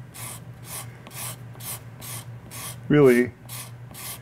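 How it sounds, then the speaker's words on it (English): A sharpened steel scraper shaves the exterior of a wooden archtop guitar top plate in regular rasping strokes, roughly two per second, close and crisp, while someone briefly speaks over one stroke. "I just think it's so satisfying to learn to use a scraper"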